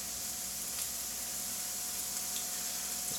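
Continuous crackling sizzle of a cheese and sourdough breakfast sandwich frying in a pan, steady and close, with no talking over it.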